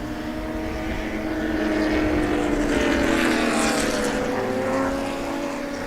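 Race cars at the Sebring race track pass in a steady, loud engine roar that swells toward the middle and eases slightly, with droning tones sliding as the field goes by, no talk.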